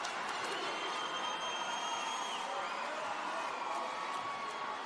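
A crowd roars and cheers steadily at a women's volleyball match between Brazil and the Dominican Republic in an Olympic qualifying tournament, a dense, continuous wash of arena noise with no breaks.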